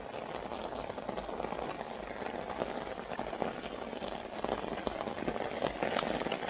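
Dense rain drums continuously on a close umbrella during a summer thunderstorm, a thick, even patter with no pauses.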